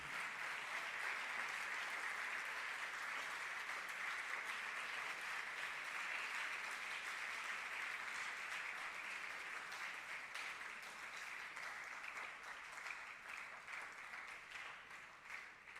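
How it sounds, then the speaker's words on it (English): Sustained audience applause fills a hall at an International Actuaries Day event as a Vice Chancellor is welcomed onto the stage, a dense steady wash of clapping at even loudness that tapers slightly near the end. "With a big round of applause"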